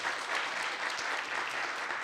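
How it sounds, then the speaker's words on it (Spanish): An audience at a panel on intellectual property claps steadily throughout, a soft, even patter of many hands heard from a distance with no voices over it. "Faltó un aplauso para la coordinación, excelente coordinación."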